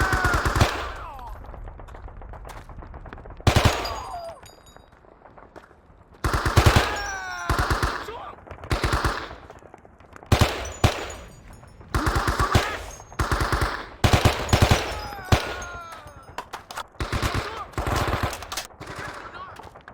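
Gunfire in the Vietnam War video game Men of Valor during the Battle of Hue, rapid machine-gun bursts and single shots cracking loudly in irregular clusters, with shouted voices between the volleys.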